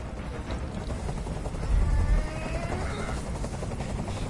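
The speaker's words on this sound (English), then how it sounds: "I can't stand that noise anymore. Tell that helicopter to get out of here." A helicopter hovers close overhead in the Detroit: Become Human video game, a loud continuous rotor thump and engine drone that swells briefly midway and persists alone without talk.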